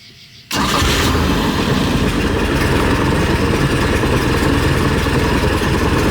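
A Mercruiser 3.0 boat engine cranks and fires at once, then settles into a loud, steady, close running rumble that holds evenly to the end with no pauses.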